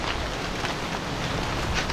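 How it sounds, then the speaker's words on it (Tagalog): Steady rain falling outdoors in a vegetable garden, a dense, even hiss of drops spread across the whole clip, moderately loud with faint wind, and no voices. "Ayun na po yung ulan."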